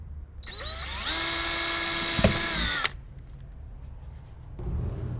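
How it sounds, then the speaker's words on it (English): A power drill boring a pilot hole in the cargo floor of a Fisker Ocean One to mount a cargo net: a loud, steady, high-pitched whine for about two seconds that cuts off sharply, leaving quiet room noise. "now let me drill the pilot hole for this one"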